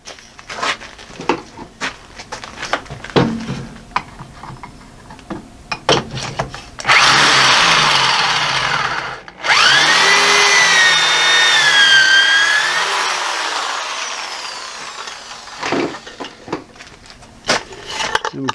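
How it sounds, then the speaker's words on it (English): A power drill boring a pocket hole through wood held in a clamped jig, one long loud whining run with a brief pause midway, framed by clattering handling of tools before and after. "And basically you just line this up, this center line up right here with your mark on the end, and then just drill it out."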